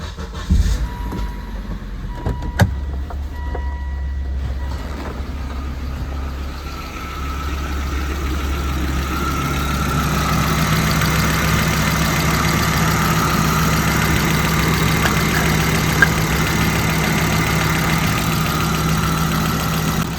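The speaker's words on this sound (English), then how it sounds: "we're going to start the car and then check for pressure from the crankcase." A Volvo car engine turns over and catches, then settles into a steady, close idle with a mechanical hum that grows slightly fuller after several seconds; the car has a suspected crankcase ventilation (PCV) fault.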